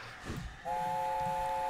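A locomotive horn in the Train Simulator 2017 game sounds a single steady sustained blast that starts abruptly partway through, preceded by low train rumble, loud and alone with no talk.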